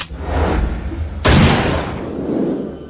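Gunfire at a shooting target in a dubbed drama: two loud, sharp booming reports about a second apart, each followed by a ringing decay.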